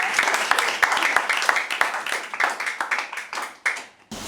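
Audience claps steadily for the school principal at a prize-giving after an intraschool debate in Lagos, a dense, even patter of many hands that continues throughout and briefly drops away near the end.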